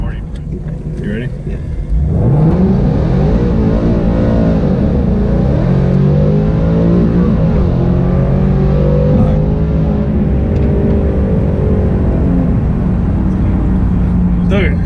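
A C5 Corvette Z06 launches and pulls hard, its engine note climbing loudly through the revs in long rising sweeps after a quieter start, close and dominant for the whole stretch.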